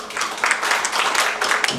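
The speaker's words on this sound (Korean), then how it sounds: "박수로 맞이해주시면 감사하겠습니다" An audience at a ceremony for people with developmental disabilities breaks into dense, steady applause to welcome a speaker, a continuous wash of many hands clapping.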